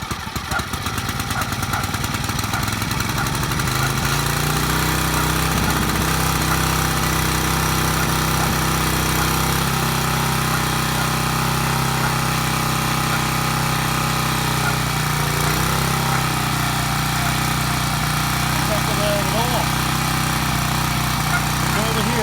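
A Champion 7-ton log splitter's small gas engine runs loud and steady after being choked, a continuous droning hum that holds throughout with only slight shifts in pitch.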